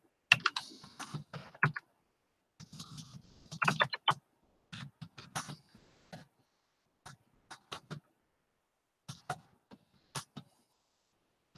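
Computer keyboard typed on in scattered short bursts of clicky keystrokes, close and fairly quiet, with pauses between flurries and no talking.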